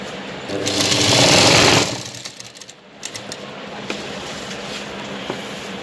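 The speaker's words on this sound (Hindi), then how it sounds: "साड़ी और इस फॉल की किनार दोनों को एकदम परफेक्टली मैच करते हुए इस तरीके से सिलाई लगा लेनी है" Sewing machine stitching a fall onto the edge of a cotton saree: a loud, steady motor run for over a second, then quieter intermittent stitching and handling noise, with no talking.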